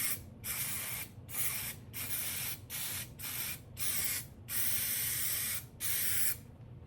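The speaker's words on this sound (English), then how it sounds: "take some of this 3M Super Strength adhesive and you just want to spray" Close, steady hissing bursts of 3M Super Strength adhesive spray onto sun visor backing for felt upholstery. There are about nine spray pulses of varying length, separated by short pauses.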